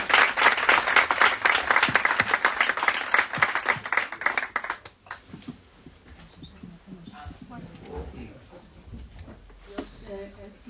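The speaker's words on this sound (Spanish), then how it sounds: "Un gran aplauso para Elvira." Audience applause for the writer Elvira Lindo at a year-end gathering, loud dense clapping for about five seconds, then dying down into scattered claps, room noise and faint voices.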